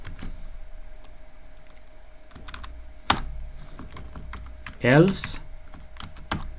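Fast, close keystrokes tap out code on a computer keyboard in irregular bursts, with one sharper clack and a brief spoken word in the middle.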